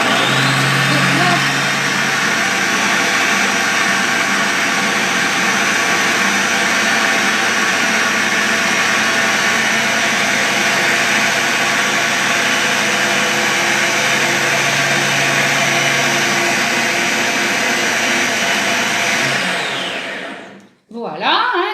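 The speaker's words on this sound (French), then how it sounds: "là j'ai fait du bruit parce que ça hachait" A kitchen food processor or Thermomix-style blender chopping at speed 7 for about 30 seconds while making pumpkin risotto, a loud continuous whirring motor drone that runs steadily for roughly twenty seconds before cutting off abruptly.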